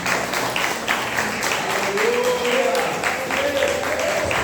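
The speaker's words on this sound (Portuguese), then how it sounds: "dê uma salva de palmas para o Senhor Jesus" A church congregation at a healing service applauds, a sustained rustling wash of many hands clapping, fairly loud and steady, with a sustained voice or tone rising faintly beneath it partway through.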